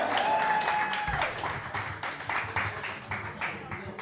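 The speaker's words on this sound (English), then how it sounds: "Please give them a round of applause." Crowd applause at a pub gathering for the Baldwinsville Bees boys lacrosse team, steady mid-distance clapping across the clip with faint voices mixed in beneath it.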